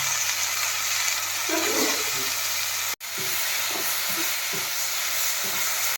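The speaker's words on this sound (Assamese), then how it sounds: "টেঙাটো গুড়াকৈ ভাজি ল'ম আগতে।" Pieces of tenga, a sour fruit, fry crisp in a hot pan, giving a steady close sizzle and hiss with soft scraping stir strokes in the second half and a brief cut midway.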